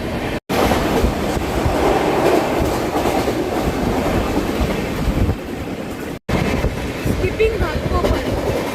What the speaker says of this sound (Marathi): कुठल्या तरी एक्सप्रेस ट्रेनला आम्ही पॅरलरी ओव्हरटेक केला.